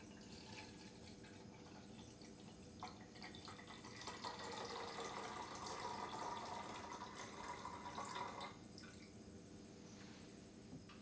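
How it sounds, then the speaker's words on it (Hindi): Water is poured from a 500 ml measure into a glass vessel in a quiet science demonstration, a soft trickling swelling into a fuller splashing stream midway, then tapering off to drips. "इस 500 ml पानी को हम फिर से इस बर्तन में उड़ेलते हैं"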